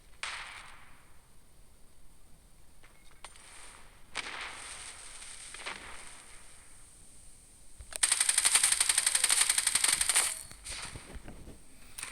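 A FAMAS rifle fires in the mobile shooter game Standoff 2, with scattered single shots and short bursts, then a longer continuous automatic burst; moderately loud and crisp, with no talking.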